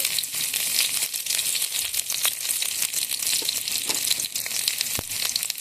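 Chopped garlic sizzles in hot oil in a kadai for a spinach dish, a dense, steady frying crackle with scattered pops that carries on throughout without any voices.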